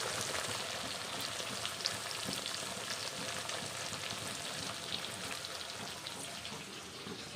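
Spice masala sizzles and fries steadily in a hot pan while a fish dish is being prepared, with a dense, even crackle that stays close and fairly loud throughout and no one speaking.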